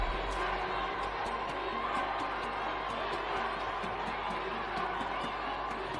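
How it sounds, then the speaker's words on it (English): Crowd at a women's basketball game between South Sudan and Kenya, a steady, fairly distant roar from the arena stands, with squeaks and thumps from the court and a commentator talking over it. "Crowd definitely into this one here in the third."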